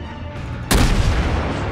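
Warship main gun in World of Warships fires a single loud, close boom that rolls into a long rumbling decay.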